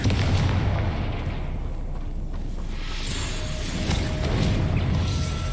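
Spell explosions in Hogwarts Legacy roar as a sustained, loud booming rumble with dense low-end blasts and crackling debris, continuing steadily throughout.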